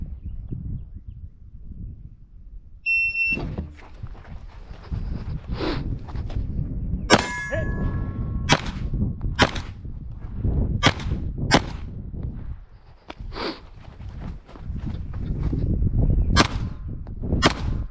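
Gunfire at a shooting competition with bullets striking steel targets 100 yards downrange, several sharp shots each followed by a ringing metallic clang, spaced irregularly over steady background noise, with no talk.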